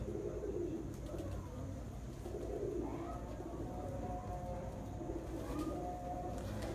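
Several racing pigeons coo softly as they settle onto a rooftop loft, a low steady murmur of calls beneath faint background noise with a few brief chirps.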